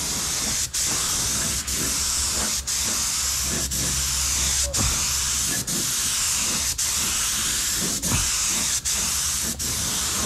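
Steady spray hiss from coating a Ford headlight during a second coat, a continuous close, loud airy stream with brief regular dips roughly every second, no talking over it.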